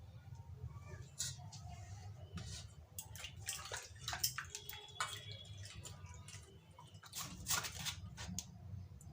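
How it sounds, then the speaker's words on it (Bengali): Cut papaya pieces washed under running tap water: a steady splashing stream with irregular ticks and knocks as the pieces shift and bump, close and moderately loud. "চলো এটা সাইজ মতো করে কেটে আমি জল দিয়ে ধুয়ে নিই"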